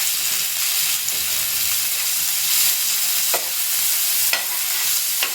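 Chopped beans and carrots stir-fried in a pan, a steady loud sizzle with repeated scraping strokes of a spatula every second or so, no voices.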